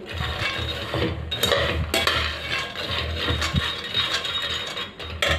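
Peanuts dry-roasting in a kadhai for laddoos are stirred and scraped with a spatula, giving irregular rattling clinks and scrapes of nuts against metal, close and fairly loud, with no talking.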